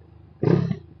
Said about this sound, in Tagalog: sana rinig nyo ngayon yung tambutso guys, grabe,